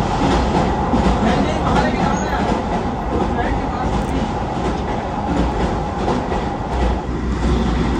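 Onboard the Vande Bharat Express between Visakhapatnam and Secunderabad, a loud continuous rumble and rattle of the running train fills the cabin, with steady rail noise throughout and no break in the roar.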